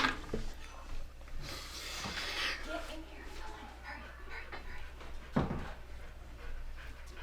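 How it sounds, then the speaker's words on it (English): A female dog pants rapidly and close by, with a brief whimper, while people talk in the background. "You can hear the panting."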